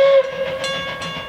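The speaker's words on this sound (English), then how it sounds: "the train crosses School Road, heading towards Menzies Creek" The Puffing Billy steam train crosses School Road heading towards Menzies Creek, a loud close rumble of rolling rail wagons with a brief tonal note at the start.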